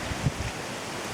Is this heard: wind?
yes